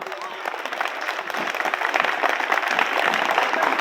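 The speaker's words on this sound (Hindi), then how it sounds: "जो भी अपनी मां से प्यार करते हैं वो एक बार जरा जोर तालियां बजा दे प्लीज।" A crowd applauds at a Republic Day poetry recital held at a college, steady dense clapping that swells slightly louder over a few seconds, with faint voices mixed in.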